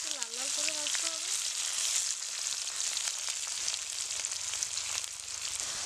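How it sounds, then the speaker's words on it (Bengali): Chopped onions fry in hot oil with a continuous close crackling sizzle, alongside dried red chilli and white cumin, with a brief tonal whine at the very start. "পেঁয়াজটা আমার একটু লাল লাল করে ভাজতে হবে।"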